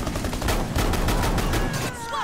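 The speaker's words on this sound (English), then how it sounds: "Don't ever tell me that Ella's shotgun is bad." Dense, loud gunfire from Ela's shotgun in the video game Rainbow Six Siege, rapid overlapping blasts filling the whole moment with hardly a break.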